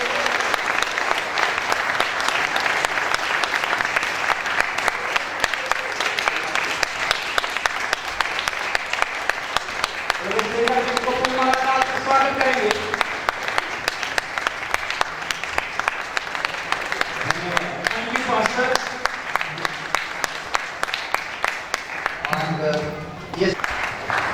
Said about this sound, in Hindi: जब मालाएं डालती हैं जोरदार ताली बजाएं